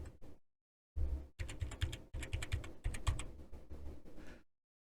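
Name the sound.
typing a password on a computer keyboard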